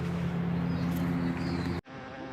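Close, continuous buzzing of bees around poppy flowers in the Nevada desert, a steady droning hum that cuts off abruptly near the end, followed by fainter background noise.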